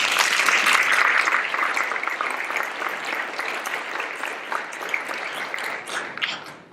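A symposium audience applauds a digital medicine panel with a long round of clapping. It starts full and dense, then gradually thins and softens until a few separate claps are left near the end.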